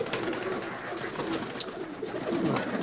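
Pigeons cooing softly nearby in low, repeated throaty calls, with a faint background hum.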